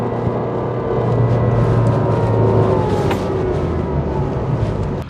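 A car drives past a traffic cone at about 60 km/h, its engine and tyre noise swelling to a close peak mid-pass and then easing away, with no talking.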